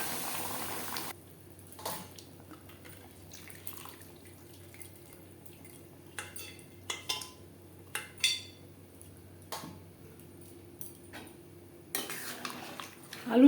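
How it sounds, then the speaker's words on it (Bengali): Mutton being stirred into fried potatoes in a large, thick aluminium kadai for biryani: scattered metallic clinks and scrapes of a utensil against the pan over a low, quiet bubbling, with no talking. "মটন বেশ ভালো করে মিক্সড করে দেব।"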